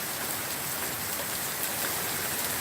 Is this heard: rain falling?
yes